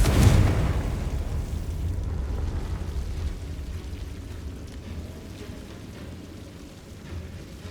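A Confringo blasting spell from Hogwarts Legacy, a loud explosive burst at the start that rolls into a long fading rumble.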